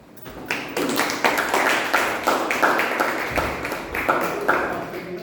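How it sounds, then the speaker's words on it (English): Clapping from a small audience at a Toastmasters club meeting after a speech, a run of distinct sharp claps in an uneven rhythm that carries on steadily throughout. "A big round of applause"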